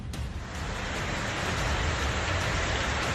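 Heavy monsoon rain pours down in Mumbai during record flooding, a dense, steady roar of falling water that stays loud and unbroken throughout, with no voices.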